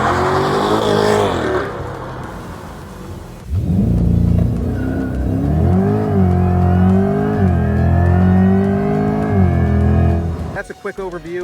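A Chevrolet Corvette C8 launches hard under launch control: the engine roars up loudly from a near standstill, climbing through rising revs with a brief shift dip before fading.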